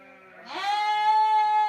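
A ewe in a lamb pen gives a single close, loud bleat that rises and then holds a wavering tone.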